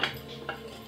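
Small metal screws from a DJI Inspire 2 drone arm are dropped into a bowl, making two quick, light metallic clinks about half a second apart in a quiet room.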